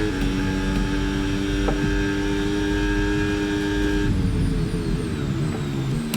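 Cadillac Formula 1 car in the F1 26 video game at the Hungary circuit, a loud high-revving engine whine that drops through downshifts as the brakes lock up into a corner, the pitch falling and tones stepping down.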